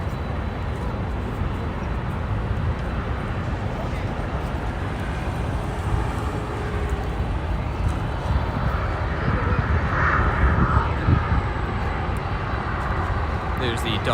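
An airliner takes off at Los Angeles International Airport, bound for Seoul, South Korea, with a steady, broad jet roar that swells slightly toward the end.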